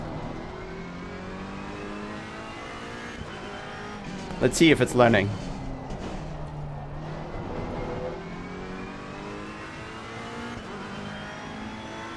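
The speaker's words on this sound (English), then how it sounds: "It's just using the wrong gear. Oh, nice, we're in 5th at 140." Race car engine in Assetto Corsa Competizione rising and falling through gear changes, with a loud burst of revving and brief tire squeal midway, while someone talks over it throughout.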